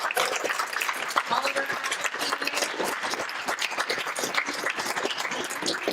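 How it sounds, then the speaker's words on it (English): A college audience gives a round of applause for writing coaches at an evening literary event, sustained crowd clapping with dense, irregular hand claps and some cheering mixed in. "one more round of applause for all the writing coaches"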